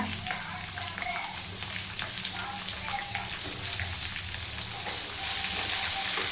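Curry leaves and onion fry in a pan with a dense, continuous crackling sizzle like rain on a surface, close and steady, growing slightly louder toward the end.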